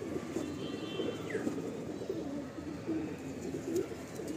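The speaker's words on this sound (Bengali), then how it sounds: "এটা মেছিয়া গুলের মধ্যে একটা পায়রা।" A loft pigeon coos softly in short repeated calls over a faint background murmur.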